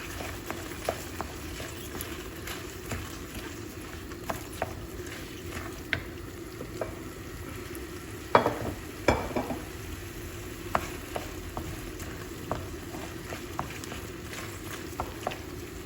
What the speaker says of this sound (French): Je vais rajouter mon riz. Je vais remuer